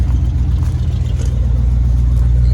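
A 1989 Dodge service truck runs loud and close, its engine holding a steady low rumble with slight surges as it tries to drive out of a hole, no voices over it.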